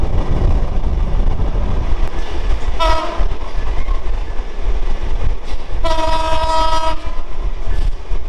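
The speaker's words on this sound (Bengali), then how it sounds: "সেটা হলো রূপসী বাংলা এক্সপ্রেস ট্রেন।" The Ruposhi Bangla Express rumbles and clatters past at Jessore Junction, with two loud horn blasts over the continuous rolling noise.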